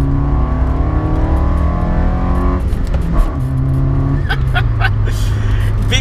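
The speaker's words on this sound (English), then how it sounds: "It revs really nicely" A Peugeot Saxo VTR engine revs while driving, pitch climbing steadily through a gear, then dropping at a shift and climbing again, heard close from inside the car.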